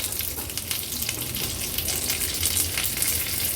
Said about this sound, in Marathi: राई थोडी तडतडली का कढीपत्त्याची पानं घालूया खूप सारी।